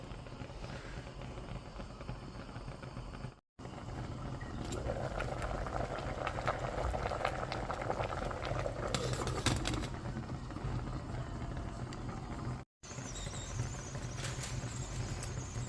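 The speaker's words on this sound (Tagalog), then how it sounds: "Takpan natin at pakuluan natin ng mga" Pinakbet, a vegetable stew, boiling in a covered pot, giving a steady close simmering hiss with faint bubbling that runs throughout, broken by two very short dropouts.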